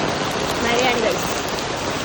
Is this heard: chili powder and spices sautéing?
no